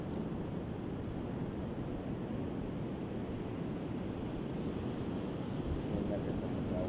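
Sea waves rolling in a steady, broadband wash of surf, continuous and fairly close, blended with wind buffeting the microphone and no clear breaks between swells.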